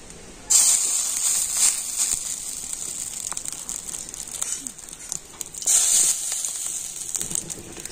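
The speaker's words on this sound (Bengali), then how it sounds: "আর আমি এবারে মাছের ডিমটা ছোটো ছোটো করে বড়ার মতো করে কড়াতে দিয়ে দিচ্ছি।" Loud, steady sizzling hiss as small fish roe fritters go into hot oil in a kadai, starting abruptly and continuing with crackling bursts, close and dominant.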